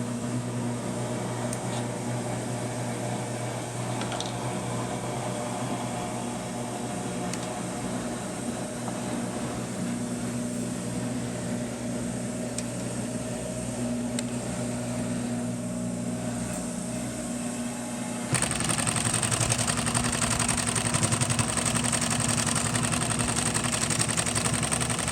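68 class large bobbin industrial sewing machine driven by an Efka servo motor, sewing rope with a steady mechanical hum and whir that grows louder and busier near the end.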